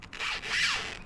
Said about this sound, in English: plastic rip